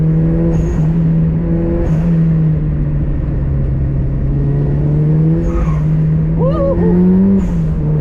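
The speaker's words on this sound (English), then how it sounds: "turbo noises with the top down is really good" A turbocharged Mazda Miata drives with its top down, its engine a loud, continuous drone heard from inside the car, with the pitch shifting and climbing near the end over a steady rush of wind and road noise.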